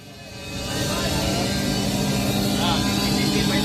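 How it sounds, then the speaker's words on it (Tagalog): Small 50cc motocross bikes race in a 2024 series final, their engines forming a steady, loud high-pitched drone that swells in over the first second and holds, with crowd voices and shouting mixed underneath. "Motor Race, Motocross 2024 Series 50cc final."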